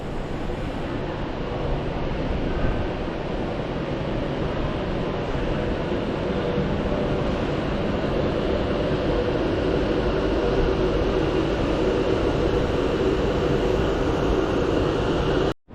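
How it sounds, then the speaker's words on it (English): A train rumbles steadily through Preston station, a continuous, fairly close roar with no clear break for about sixteen seconds before it cuts off. "this next train is the one that brought me in"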